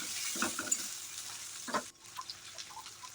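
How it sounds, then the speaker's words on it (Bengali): Garlic, onion, tomato and green chillies fry in mustard oil with a steady sizzle, broken by a few stirring scrapes and a brief drop in intensity near the end. "আরও বেশ কিছুটা সর্ষের তেল দিয়ে আমি দিয়ে দিচ্ছি এখানে থেতো করে নেওয়া রসুন আর পেঁয়াজ ভালো করে ভেজে নিতে হবে"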